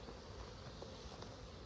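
Honey bees buzz during a hive inspection after a split, a faint, steady droning hum with a few brief louder passes close by, and no talking.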